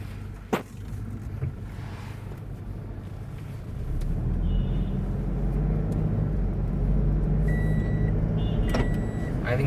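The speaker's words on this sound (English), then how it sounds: "as we are driving the automatic variant, I'm going to turn to the drive mode, pull down the handbrake," A Toyota Innova Crysta automatic MPV pulls away: a low engine hum swells into a steadier, louder drone about halfway through, heard from inside the cabin, with a sharp click near the start and a few faint electronic chimes later.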